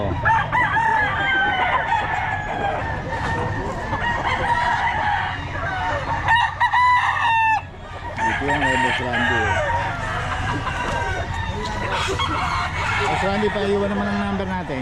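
Bullstag gamefowl roosters at a busy Bocaue market repeatedly crow loud and near, with clucking in between, over crowd noise and people talking throughout.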